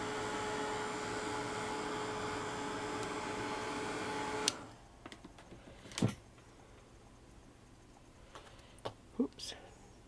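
A small electric dryer blows loudly and steadily as it dries paint on a craft spool, then switches off halfway through, leaving a quiet room with scattered light taps and handling clicks.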